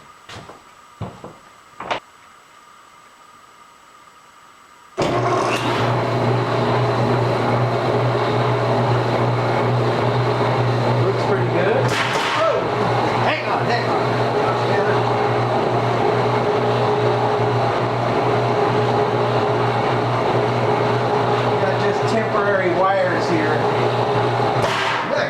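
A homemade almond centrifuge spins up with a sudden loud start after a few quiet taps, then holds a steady droning motor hum with rattling overtones for about twenty seconds, close and continuous.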